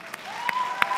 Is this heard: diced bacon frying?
no